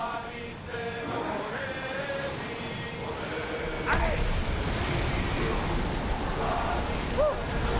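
Steady rushing wind over open water with surf-like noise, a constant broad hiss throughout, with faint talk-like tones drifting underneath, aboard a ship at sea in Assassin's Creed Odyssey.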